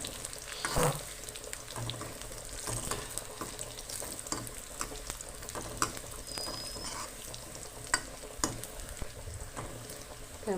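Onions fry in a pan with cumin while being stirred, a continuous moderate sizzle broken by repeated scraping and clinking strokes of the spoon, with no talking.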